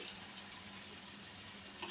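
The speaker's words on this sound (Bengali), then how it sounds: "আমি কিন্তু খুব অল্প তেলে পরোটাগুলো ভাজছি" Aloo paratha, a mashed-potato stuffed flatbread, frying in a small amount of oil on a hot pan, giving a steady, close, even sizzle with fine crackle throughout and no talking.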